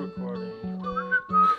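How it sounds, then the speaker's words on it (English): A melodic whistle sound in an FL Studio beat, with sustained steady tones and a rising glide near the end, playing over a low sustained bass note in short repeating phrases. "Bring the whistle back."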